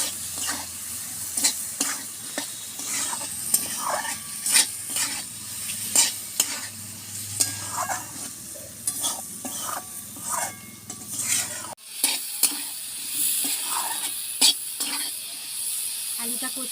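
Potatoes with turmeric and salt sizzle in a pan while a spatula scrapes and stirs in irregular bursts; the frying hiss drops away abruptly near the end as the stirring continues.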